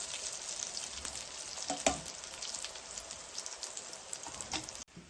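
Brinjal slices fry on a tawa with an even, faint crackling sizzle and one brief scrape, before the sound cuts off abruptly.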